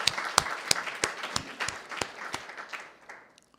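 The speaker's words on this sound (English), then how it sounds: "Let's give her a big round of applause." Scattered applause at a board of education meeting welcomes a new assistant superintendent, with sharp individual claps standing out over a light patter that thins and fades away within a few seconds.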